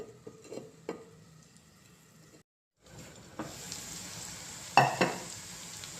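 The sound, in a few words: bitter gourd slices frying in a pan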